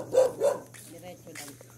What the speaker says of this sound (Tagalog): maingay na yung aso